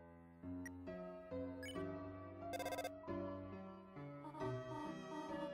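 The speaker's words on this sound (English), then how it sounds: "The phone kept ringing infinitely." A phone ringing in the video game Deltarune, heard as a quiet run of melodic electronic tones in short stepped phrases, with one brief bright trill partway through and no speech.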